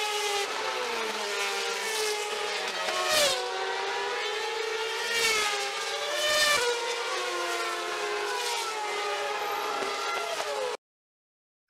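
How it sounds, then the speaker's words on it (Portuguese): Formula 1 race cars scream past one after another, high whining engine tones sliding downward in pitch with each pass, loud and close against a constant hiss. "Outra situação que acontece também é em uma corrida de Fórmula 1 ou em uma corrida de MotoGP"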